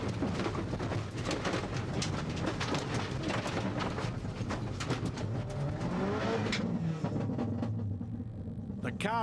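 A rally car revs hard on a Rally Hokkaido gravel stage, its engine loud and rising and falling, with a voice talking over it and a brief squealing sweep near the end.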